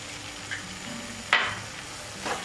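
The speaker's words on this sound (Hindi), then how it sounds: "अमचूर डालने के बाद 1-2 मिनट तक थोड़ा हमने इसको हिला लिया धीमी आंच करके" Cabbage and peas sabzi with amchur powder stirred in a pan over low heat: soft, faint scraping strokes with one sharper scrape in the middle and a quiet sizzle underneath, with no talking.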